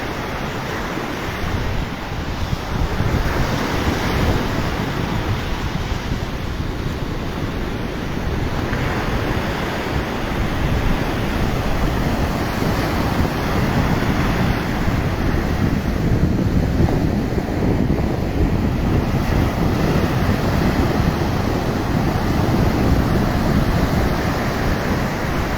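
Ocean waves roll in continuously at Chennai beach at night, a loud, steady roar of surf with wind buffeting the microphone throughout and no voices.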